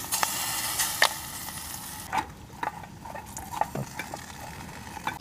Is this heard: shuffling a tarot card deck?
no